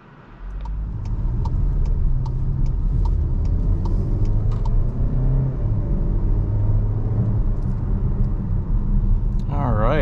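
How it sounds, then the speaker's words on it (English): A 2024 Volkswagen Tiguan SEL R-Line pulls away and drives off, its engine settling into a steady, close cabin rumble after a soft start, with a few ticking indicator-like clicks early on and a brief voice at the end. "So setting off in the 2024 Tiguan, let's see how this thing drives."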